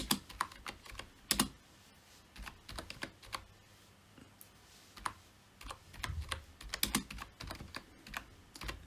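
Keys clatter on a computer keyboard as a second line of text is typed, in irregular bursts of close, crisp clicks with short pauses between runs, and no talking.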